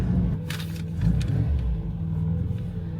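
Interior engine noise from a moving Ford Fiesta Mk2, a low, throaty rumble that rises as the car accelerates, with a few short rattles and bumps over the steady drone.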